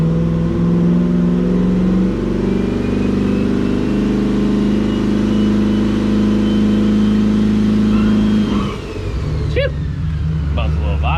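A turbocharged LS V8 in an Oldsmobile Cutlass held on a transmission brake, a loud, close, sustained engine roar with turbo whistle that drops and wavers toward the end before revving again.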